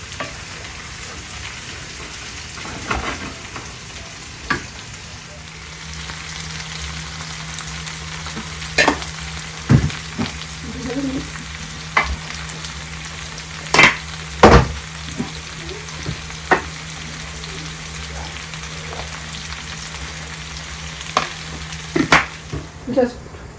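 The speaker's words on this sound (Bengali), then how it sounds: "ভাজি করতেছি।" Taro (mukhi kochu) fries with chili, turmeric and coriander powder in a pan, giving a steady close sizzle with scattered sharp taps and scrapes of a stirring spoon over a low hum.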